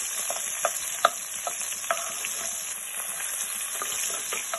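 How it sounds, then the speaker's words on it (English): Beetroot and red onion frying in a pan, a close, steady sizzle broken by repeated sharp spoon scrapes and clicks as the mix is stirred, with no talking. "Let it fry a bit."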